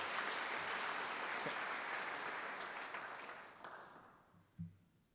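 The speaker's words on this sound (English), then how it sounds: "So let's give him a hand clap also." Audience applause at a university fall welcome event, a dense sustained patter of clapping that fades toward the end, with a few scattered claps and a brief noise near the close.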